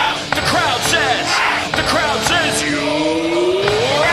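A cricket crowd at a T20 match in Kolkata yells an appeal after a run out: loud, close, overlapping shouts and rising whoops from many voices, with one long climbing yell at the end.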